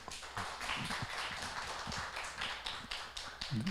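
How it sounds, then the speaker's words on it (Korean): A crowd applauds steadily at a Korean film festival talk, many hands clapping together in a dense, continuous burst that holds for several seconds. "박수."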